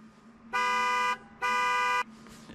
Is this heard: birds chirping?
no